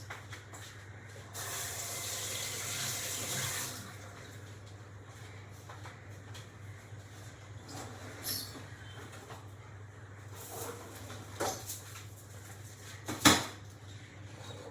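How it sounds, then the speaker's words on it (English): A kitchen tap runs for a few seconds as hands are washed at a sink, followed by quieter clinks and a sharp knock of dishes close by, with no talking. "Now I'm just going to wash my hands quickly"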